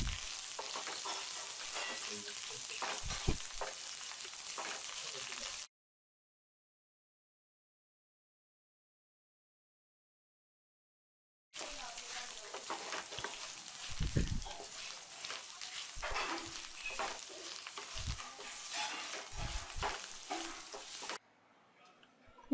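Tamarind rice being stirred with chopped coriander in a pan, giving a bright continuous sizzling hiss with scattered scraping thumps, interrupted by a long stretch of silence in the middle before the stirring resumes.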